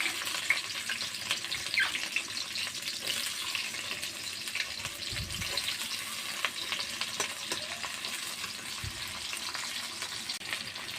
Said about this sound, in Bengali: তেলটা গরম হয়ে গেছে, এখন আমি পেঁয়াজগুলো দিয়ে দেব